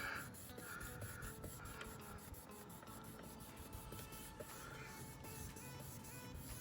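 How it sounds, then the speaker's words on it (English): A quiet, steady rubbing and rasping scrape repeats close by as a pad is worked back and forth over a van's metal sliding door rail, with no talking. "we're just gonna get the rail nice and clean"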